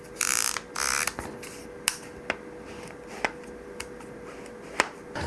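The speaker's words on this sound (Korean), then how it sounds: "이 클릭 스위치로 이렇게 조리개를 단수를 조절하고" Aperture ring click switch on a Sigma 17-40 camera lens being turned: a few soft rubbing turns followed by sharp, isolated detent clicks spaced irregularly, close and quiet with no talking.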